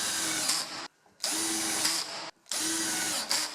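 A power drill drives screws into a wooden side frame for a workshop in three loud, close bursts, with brief pauses between them as the screw is seated.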